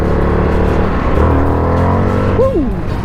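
A FTR 1200 motorcycle accelerates hard with its rear wheel spinning, engine roaring close and loud, with a sharp rising whine near the end.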